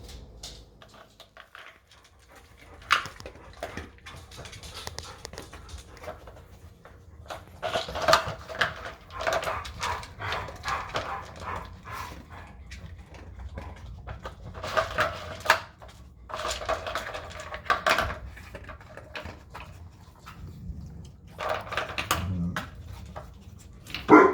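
A dog works at an Outward Hound Nina Ottosson Bone Cover Up treat puzzle toy, nudging plastic parts with scattered clacks and rattles, faint sniffing and an occasional soft whimper, close by with no talking.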